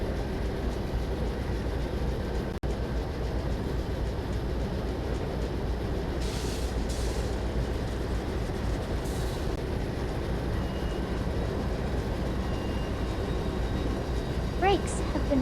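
An Amtrak Empire Builder train rolls along the rails with a steady low rumble and hiss, a few brief higher squeals and clicks breaking through near the end.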